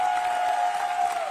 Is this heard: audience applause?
yes